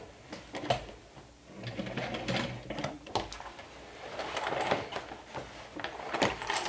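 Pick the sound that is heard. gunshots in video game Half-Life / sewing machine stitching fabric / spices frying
sewing machine stitching fabric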